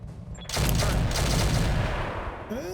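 Mech autocannon fire in a battle video game, a dense sustained burst of loud rapid shots that stops abruptly, followed by a short mechanical whine.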